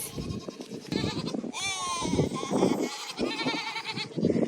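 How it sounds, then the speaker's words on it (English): Farm goats bleating repeatedly, several wavering cries close by and overlapping one another, with no talk. "we have got our goats."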